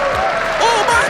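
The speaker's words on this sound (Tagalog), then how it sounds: "Biglang pumalakpak." A crowd at a State of the Nation Address breaks into sudden applause, a dense clapping wash that runs under a speaking voice for the whole short moment.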